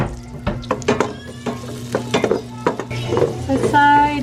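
Onion and garlic sautéing in melted butter in a pan, with soft sizzling under repeated stirring and utensil scrapes and clinks against the pan, close up, ending on a brighter clink.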